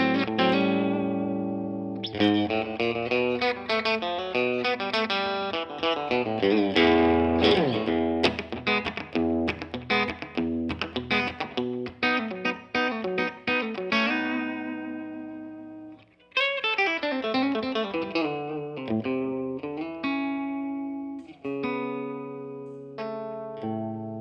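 A Collings 470 JL electric guitar on its bridge pickup plays through a Clockwork Echo set to slapback into a tweed amp, giving a bright, twangy run of chords and single notes with a short doubling echo and brief pauses between phrases.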